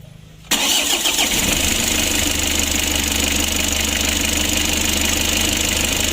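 A Mitsubishi L300 diesel engine, rough-running and hard to start, cranks after a short quiet moment and catches, then settles into a loud, steady, slightly knocking idle close by.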